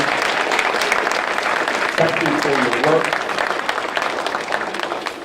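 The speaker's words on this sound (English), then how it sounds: "let's give a round of applause to all of the recipients today." An audience at a sheriff's office detectives and deputies awards ceremony gives a loud, sustained round of applause for the recipients, dense clapping throughout with a voice speaking briefly over it.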